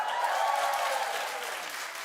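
A television studio audience claps loudly and steadily for about two seconds, a dense wash of applause that slowly tapers off at the end.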